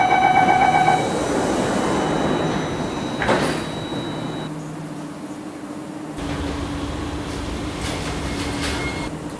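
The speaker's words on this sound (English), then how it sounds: "Doors are closing." Sliding doors of an Alstom AP-Series metro train closing in Roblox, with a warning chime, then a brief thud as the doors meet, followed by the low hum of the train at rest.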